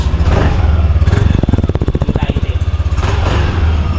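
A Yamaha Mio Aerox 155 motorcycle engine runs close by, a steady idle that quickens briefly into a rapid pulsing putter before settling again, with someone talking over it.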